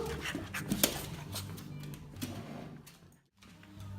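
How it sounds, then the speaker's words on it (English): Several little puppies pant and whimper up close, with quick breathy bursts, a few sharp high yelps and soft whines, a brief pause near the end, then more snuffling. "Hey up, little puppies."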